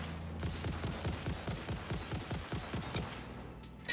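Rapid automatic gunfire from auto-aim bullets in the video game Satisfactory, a dense, steady stream of shots lasting several seconds before cutting off, heard alone at moderate level.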